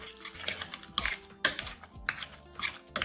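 Grated cheese is mixed into mashed potatoes with a utensil scraping and clinking against a bowl, close and irregular with a few sharper taps.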